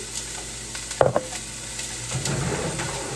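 Onion and garlic sizzle softly in a pan, with a couple of sharp utensil knocks near the start and the sizzle swelling louder toward the end.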